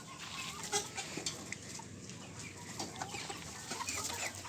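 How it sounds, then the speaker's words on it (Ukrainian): Young roosters in a farm enclosure give faint, scattered clucks and short calls over steady outdoor background noise, with no talk heard. "Старша група півників."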